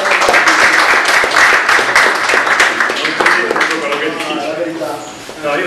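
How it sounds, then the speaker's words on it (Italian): Audience applause at a tournament gathering, dense clapping from a crowd that stays loud before gradually thinning, with voices mixed in underneath. "ci tengo a fare un grosso applauso a Matteo"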